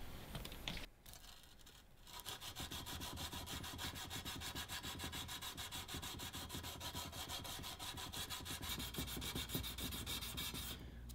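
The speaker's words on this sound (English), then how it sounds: "I sanded the blade in 3 different sections: the tip, the spine, and the blade" A Damascus steel katana blade is sanded by hand in steady, rapid back-and-forth strokes that give a continuous rhythmic scratching rasp, close and even, after a brief pause near the start.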